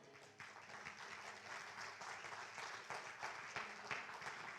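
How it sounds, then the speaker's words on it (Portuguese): A church congregation applauds the Lord during a service, a steady, fairly distant wash of clapping that carries on throughout with a few sharper claps rising above it. "Aplauda o Senhor"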